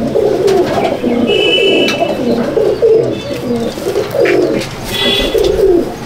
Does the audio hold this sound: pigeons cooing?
yes